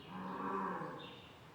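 A cow moos inside a barn: a single low, drawn-out call of moderate loudness that swells and fades over about a second and a half.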